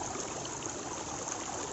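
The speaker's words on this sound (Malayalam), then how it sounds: "ഇവിടെ ഒരു അരുവിയുണ്ട്." A forest stream at Thusharagiri waterfalls flows steadily nearby, a continuous close wash of trickling water with no voices.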